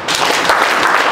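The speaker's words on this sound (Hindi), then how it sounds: "ताली बजाओ" A group clapping hands during an educational session at a rehabilitation home, a dense, steady patter of many claps sustained loudly through the moment, with no voices.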